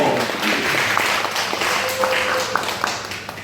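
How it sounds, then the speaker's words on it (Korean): Audience applause at a Korean group gathering, a moderate patter of clapping sustained through the moment with faint talk and a few sharper claps standing out. "박수"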